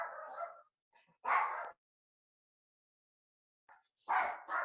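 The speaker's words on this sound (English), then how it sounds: "my dog wants to play, I think" A pet dog barks and whimpers, wanting to play, in short close yips and whines separated by silence, loud against an otherwise quiet room.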